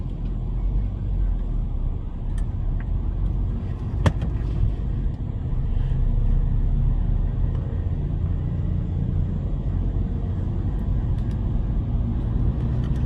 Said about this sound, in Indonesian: Masuk satu, setengah kopling gas.